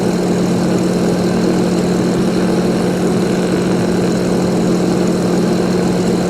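Aircraft engine idling in the X-Plane 11 flight simulator at Dubendorf, Switzerland, a steady loud drone with a constant low hum, unbroken and alone.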